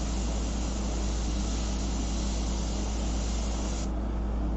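Airbrush spraying paint onto shellac-covered paper, a continuous loud close hiss of air and paint that holds steady for several seconds and then thins slightly near the end, with no voices.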